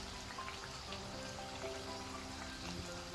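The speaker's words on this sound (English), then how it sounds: "fry from both the sides until it becomes light golden brown" Dal pakwan dough fries in hot oil with a steady, soft crackling sizzle, like light rain, continuous and fairly quiet with no voices.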